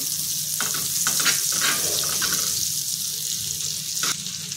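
Amul butter melting and sizzling in a hot pan before baby corn and mushrooms go in, a steady close frying hiss with a few brief clatters from a utensil.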